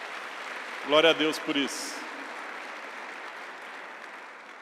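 A church congregation applauds during a sermon, a soft, distant patter of clapping running under a preacher's brief spoken phrase and continuing faintly after he stops.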